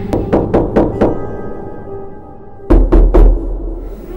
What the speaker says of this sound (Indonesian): Aku sangat bersemangat mengetuk pintu rumahnya.